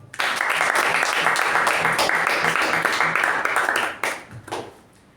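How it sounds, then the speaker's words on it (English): An audience at a Toastmasters club meeting gives a round of applause, dense steady clapping from many hands for about four seconds that then thins out and fades in scattered claps. "Round of applause to the speaker and the evaluator."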